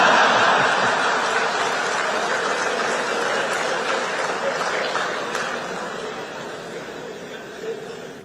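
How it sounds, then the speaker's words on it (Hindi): Crowd clapping during a speech by Prime Minister Narendra Modi: a dense, loud wash of applause with scattered laughter that slowly tapers off over eight seconds. "आया हूं इसकी ताली बजा रहे हो।"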